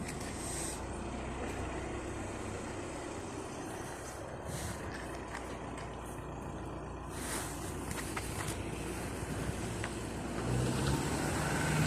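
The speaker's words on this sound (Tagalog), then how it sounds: "There's a car." A car passes on a narrow village road in a hillside village, a steady broadband rumble of tyres and engine that swells louder toward the end, heard alongside outdoor ambience.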